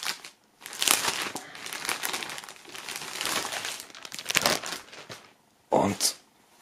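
Crinkling plastic foil as a shirt is unwrapped from its wrapping during the unboxing of a football anniversary box, a busy rustling and crackling run that stops briefly, then returns in a short loud burst near the end.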